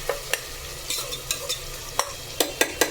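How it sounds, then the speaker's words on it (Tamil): Onions fry with salt in a pan for prawn biryani while a spoon stirs them, sending sharp, irregular scraping clicks over a steady, close sizzle. "அப்படியே வெங்காயம் போட்டுட்டு உப்பு போட்டுக்கலாம். நல்லா வதங்கணும்."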